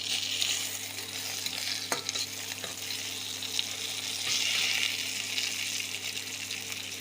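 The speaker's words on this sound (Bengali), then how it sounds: "পেঁয়াজটাকে ভালোভাবে ফ্রাই করে নেব। এবার অ্যাড করব তেজপাতা" Chopped onions and bay leaves fry in a pan with a steady, hissing sizzle, close and continuous, broken by a few sharp stirring clicks.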